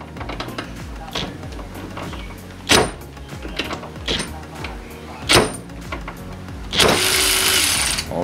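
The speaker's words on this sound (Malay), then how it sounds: "So sekarang ni kita try ketatkan balik menggunakan ratchet ni" A Europa HILT EBL12RW 1/2-inch brushless ratchet tightens a bolt in a few short motor whirs, close and clear, among soft clicks and handling noises.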